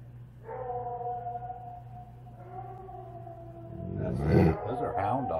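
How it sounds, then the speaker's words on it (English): Hound dogs howl with long, drawn-out wavering tones from a distance, first one voice and then another overlapping it, followed by a sudden louder, closer burst of noisy vocalising near the end. "Those are hound dogs."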